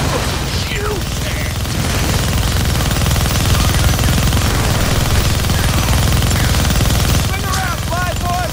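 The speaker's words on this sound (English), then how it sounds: "Gonna need both hands to shoot that minigun." Minigun fire in the Deadpool video game, a dense continuous roar of rapid shots that holds loud for the whole stretch, with game voices and small effects layered on top.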